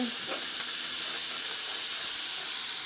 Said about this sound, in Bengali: তেল দেওয়া হয়েছে গরম মশলা দেওয়া হয়েছে দারচিনি এলাচ লবঙ্গ দিয়ে কড়াই কড়াই দেওয়া হয়েছে